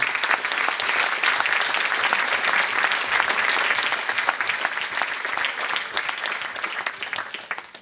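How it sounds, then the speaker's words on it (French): A festival audience at an opening night applauds the volunteers, dense sustained clapping that fills the room evenly and thins slightly toward the end. "Je vous demanderai s'il vous plaît de les applaudir"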